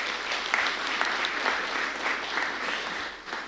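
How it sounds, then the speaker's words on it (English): An audience at a women's event welcomes a speaker with a steady round of applause from a crowd of many hands, heard at a moderate distance and fading slightly at the end. "Ladies, please help me welcome with a loud round of applause,"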